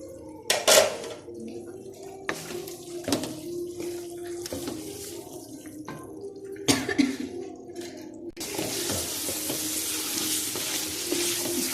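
Pre-fried chicken goes into sizzling masala for aloo matar gosht, heard as intermittent clattering stirs and bursts of sizzle that swell into a louder, continuous hiss near the end.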